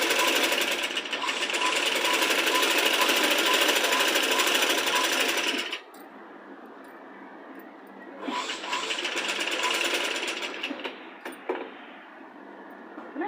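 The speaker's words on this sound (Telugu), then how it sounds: "కొంచెం ఫోల్డ్ వేసుకొని ఫస్ట్ ఒక స్టిచ్ వేసుకోవాలి." A sewing machine stitches a small child's Punjabi-style dress top, loud and steady for about six seconds, then pausing briefly before a second, shorter run of rapid stitching resumes.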